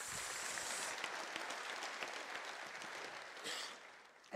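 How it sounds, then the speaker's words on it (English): An audience at a university graduation ceremony applauds, a steady dense patter of clapping from many hands that fades slightly toward the end. "Ladies and gentlemen, may we give him a round of applause."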